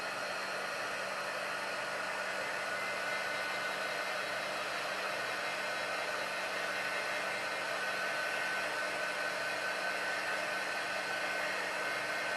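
Small heat tool blowing on a craft home sign, a continuous even whirring hiss held at steady low-moderate level throughout, with no speech.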